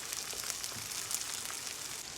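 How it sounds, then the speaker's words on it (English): Shrimp sizzling in butter in a pan next to vegetables for fajitas, a steady, even crackle and hiss of frying held close throughout with no talk. "add some butter on this side and put my shrimp there"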